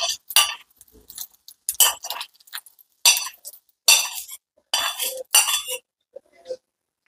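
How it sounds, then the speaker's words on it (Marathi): Moth beans with turmeric and salt are stir-fried in a pan, heard as sharp metallic clinks and scrapes of a spoon against the pan in short bursts with quiet gaps between. "ही मटकी थोडस हळद मीठ टाकून याच्यात परतून घेते"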